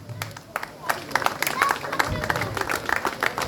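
Audience applause for an award winner at a French koi show prize ceremony, a burst of scattered hand claps building and continuing steadily, mixed with crowd murmur and some talk.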